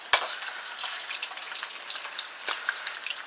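French fries cooking in hot oil give off a soft, even crackle with fine popping bubbles, heard up close and fairly quiet, with one brief knock near the start.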